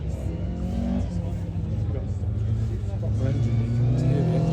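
A Ford Escort engine accelerates hard nearby, its pitch rising toward the end, with voices talking faintly underneath.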